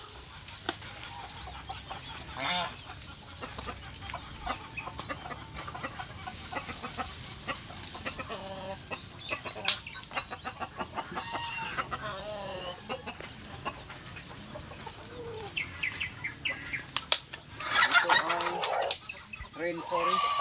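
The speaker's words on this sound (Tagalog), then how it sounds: "Itong ating mga halaman kinain ng mga alaga nating mga manok." Pet chickens cluck and call on and off near plants, with a voice talking over them through much of the stretch and a louder burst of activity near the end.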